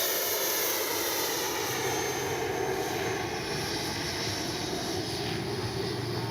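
A constant high-pitched jet whine with a steady roar from a 90mm RC jet aircraft flying, holding level throughout, loud and close with no voices.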